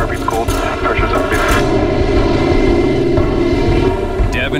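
A 47,000-pound C-46 transport plane touching down on a thin ice runway, its engine roar loud and continuous, with voices audible over it.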